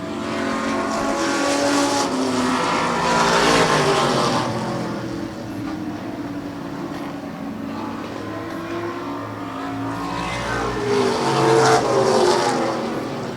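Race cars lapping a track during a Super Street feature, a continuous layered engine roar that swells and fades as cars pass, loud and sustained throughout.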